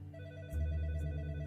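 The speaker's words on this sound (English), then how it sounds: "the phone on Detective Higginbotham's desk rang" A desk telephone in a detective's office rings, a sustained electronic bell tone that starts abruptly halfway through and continues steadily, fairly loud and alone.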